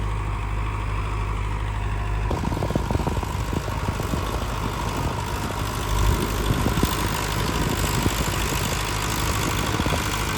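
A new Digitrac tractor's engine idles in a field, a steady low rumble running throughout at a constant level with a slight change in tone a couple of seconds in.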